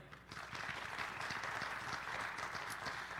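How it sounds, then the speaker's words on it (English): Audience at a 2022 Kentucky House of Representatives candidate forum applauding, steady dense clapping from a crowd that swells in and holds at moderate loudness. "Yeah, you can applaud."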